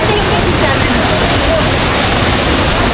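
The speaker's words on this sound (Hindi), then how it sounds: "ये है सामने केम्प्टी वाटरफॉल।" Kempty Falls waterfall in Mussoorie, a hill-station cascade, roars as a loud, steady broadband rush of falling water with no break, close and dominant throughout.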